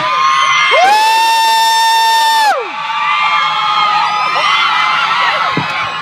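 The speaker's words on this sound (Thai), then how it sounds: "เสียงกรี๊ดดังเท่าไหร่ เป็นแรงเท่านั้นนะ" A loud crowd screaming and cheering, with high-pitched shrieks rising and falling over a constant roar of voices.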